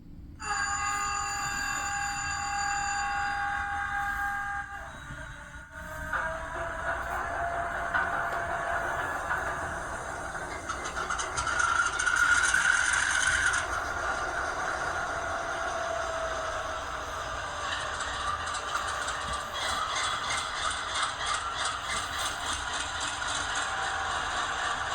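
ScaleTrains AC44C6M model locomotive running its default startup sequence: bell-like tones and rattles give way to a rising electronic diesel whine and a steady rumbling idle, close and moderate in volume.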